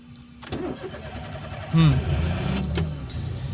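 A car engine cranks and catches during a driving lesson, settling into a steady idle under an instructor's talk.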